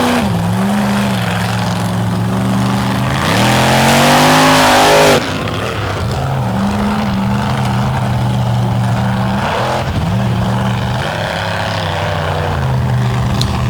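Mud racing truck at a swamp mud bog show, engine revving hard with the throttle hanging open, a loud sustained roar whose pitch swells and dips across the run, surging louder midway before settling back to a steady drone.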